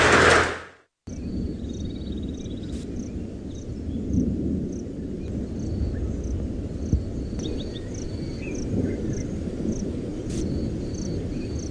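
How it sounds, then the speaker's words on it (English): Thunder rolls during a storm on an open safari drive in the Mara, a low, broad continuous rumble with a loud burst at the start, under steady insect chirping. "I'm shouting over the sound of the thunder and lightning."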